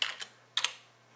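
Keystrokes on a computer keyboard while entering a title in Corel VideoStudio Pro X2: three short bursts of a few quick clicks each, close and fairly quiet, with no voice.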